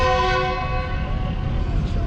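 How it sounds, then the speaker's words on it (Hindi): Departure horn of the Tezgam train at a railway station, a loud sustained blast that holds steady for about two seconds over rumbling low noise. "ये डिपार्चर हॉर्न हो गया पत्तों की रेलवे स्टेशन पे।"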